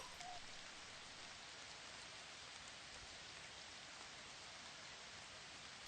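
Steady pouring rain hisses evenly as a dense, close wash of drops on a surface, continuous and alone with no voices.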